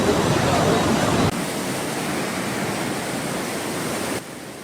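Rushing flood water after a landslide at Chooralmala in Wayanad, a broad, continuous roar that drops to a quieter level in abrupt steps.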